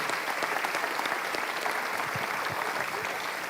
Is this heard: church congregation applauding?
yes